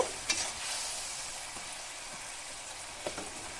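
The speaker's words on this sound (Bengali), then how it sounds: "এখন ভালো করে সব কিছুকে মিক্স করে দু তিন মিনিটের জন্য কুক করে নেব" Turmeric and red chili powder being stirred into hot spices over a low gas flame, a steady close frying sizzle with a few soft scraping stirs of the spoon.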